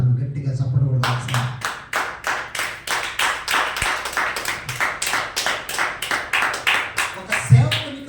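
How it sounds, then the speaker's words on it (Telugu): Congregation at a Sunday church worship service clapping loudly in a steady, even rhythm, sharp repeated claps that begin after a moment of talk and continue throughout. "గట్టిగా చప్పట్లు కొడతాను."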